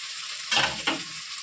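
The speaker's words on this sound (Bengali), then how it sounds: "মশলা কষা হয়ে গেছে, এখন আলুগুলো দিয়ে দেবো।" Fried potatoes stirred into hot oil and cooked spice masala for a fish curry, a steady sizzle broken by two louder scraping, spluttering bursts as the pieces are turned.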